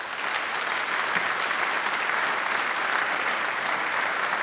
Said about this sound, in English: So, if you wouldn't mind just taking a moment and give our staff another round of applause.